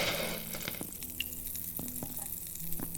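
Food sizzling in a frying pan in the video game Abiotic Factor, a continuous crackling fry with faint stirring clicks and small pops, heard close and alone without any talk.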